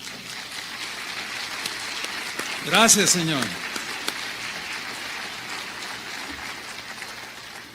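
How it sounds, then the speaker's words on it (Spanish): A church congregation breaks into sustained applause, a dense rain-like patter of clapping heard throughout, while a voice briefly calls out over it. "¿Cuántos le dan un aplauso al Señor?"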